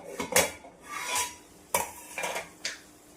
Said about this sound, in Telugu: మధ్య మధ్యలో కలుపుతూ చూసుకున్నాము.